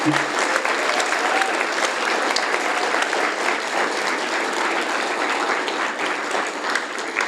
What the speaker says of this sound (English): We have a nice round of applause for these inductees today.